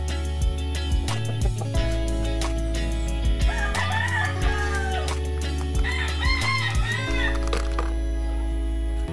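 A young rooster, a stag, crows twice in a row, each crow a loud, strained call close by, with a steady low hum and scattered clicks and knocks in the background.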